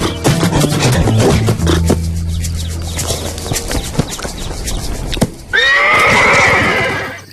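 A zebra call rings out near the end, a harsh rising whinny with a braying edge, loud and alone after earlier low rumbles, thuds and muddled cartoon-like sounds.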